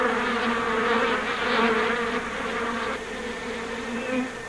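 Swarm of honeybees calmed with smoke, a dense, close, continuous buzzing drone with layered wingbeat tones that swell and ease slightly, no talking.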